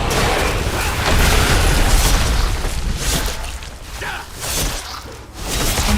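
Massive slam ability in a mythic raid video game, heard as a loud, sustained rumbling impact with booming bursts and whooshes, rising, dipping mid-way, then swelling again.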